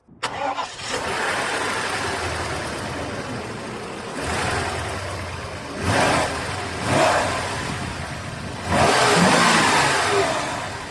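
A Mercedes S-Class coupe engine cranks and fires up close by, settles into a steady idle, then gets several sharp rising revs toward the end, with no talking.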